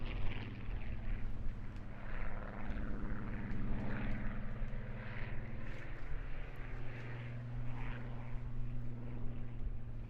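A Supermarine PR Mark 19 Spitfire reconnaissance aircraft, assembled at the Eastleigh factory, flies over the Eastbourne International Airshow with a steady droning engine roar and drifting pitch, moderately distant and continuous throughout.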